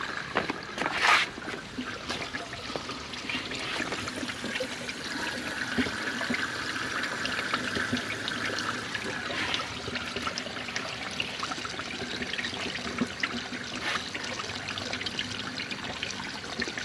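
Water from a hose rushes steadily through a dirty car radiator cooling system being flushed out, a continuous close splashing gush with no talk over it.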